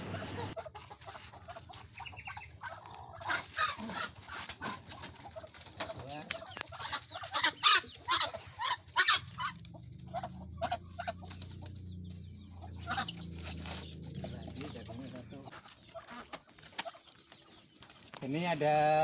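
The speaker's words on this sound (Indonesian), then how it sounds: "Ini ada 3 indukan, 1 jago" Three hens and a rooster on a poultry farm cluck and call close by in bursts, with scattered bird sounds, while people talk intermittently and handling noises come and go.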